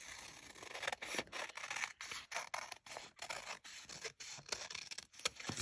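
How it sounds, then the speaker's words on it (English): Scissors cutting out paper for a layered craft tag, a quick series of close, crisp snipping strokes with brief pauses between cuts and faint paper rustle. "then we'll cut it out"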